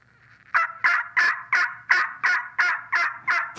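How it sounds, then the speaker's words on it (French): An old female turkey gives a raspy call, a run of about nine evenly spaced, harsh yelps, loud and close, each one sharp at the start and then fading. "elle sonne beaucoup plus, je te dirais, qui a plus un grincement. On appelle ça plus raspy en langage de dindon."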